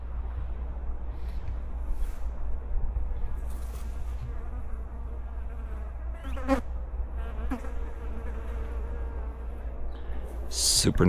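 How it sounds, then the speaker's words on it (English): Bees buzz around garden plants on a homestead, a close, steady insect drone with individual bees swelling louder as they pass near, over a constant low hum. "The bees love it."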